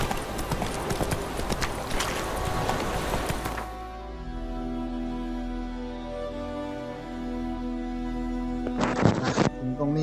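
The horse Roach galloping in the video game The Witcher 3, hooves drumming in a fast clip-clop rhythm, then easing to a calmer trot over ambient music, with a brief burst of hooves again near the end.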